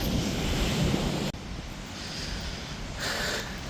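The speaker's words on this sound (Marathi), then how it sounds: "मोठी उधाण आहे वाटतं, त्यासाठी पाणी एवढं आलं आहे." Sea waves surging at high tide on the shore near Satpati, a steady broadband wash with gusty wind rumble, a brief drop partway through, then a fresh swell of surf toward the end.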